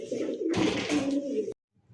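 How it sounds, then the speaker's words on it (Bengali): A pair of silver Bagha Giribaz pigeons coo, a soft low burbling close by under a voice talking, cutting off into a brief silence. "দর্শক এই মুহূর্তে দেখতে পাচ্ছেন খুব সুন্দর এক জোড়া বাঘা কবুতর ভাই, বাঘা গিরিবাজ দেখছেন, সিলভার বাঘা।"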